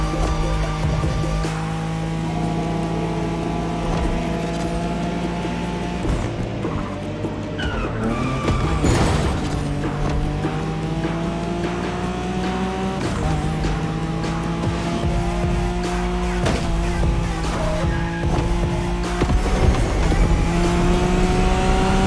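A Nissan Skyline races through city streets in The Crew Motorfest, its engine revving up and down loudly with shifting gears and repeated tire squeals throughout, alone without talk.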